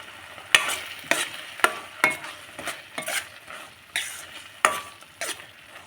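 Tomato gojju cooks in a pan with added water, sizzling softly while a utensil stirs and scrapes in repeated sharp strokes, about a dozen close, irregular clanks over a steady bubbling background.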